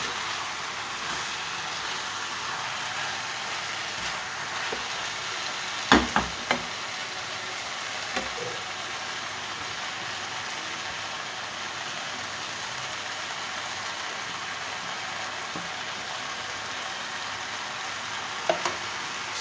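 Potatoes and fenugreek leaves fry in a pan with a steady, even sizzle throughout, broken by a few brief clinks of a utensil stirring.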